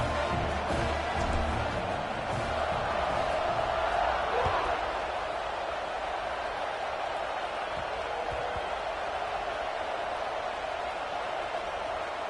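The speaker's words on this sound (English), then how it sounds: "this crowd is feeling themselves after that last drive" A football stadium crowd at a Nebraska versus Penn State game roars steadily as the kickoff unit takes the field, a dense, continuous wall of cheering that holds loud for the whole stretch without letting up.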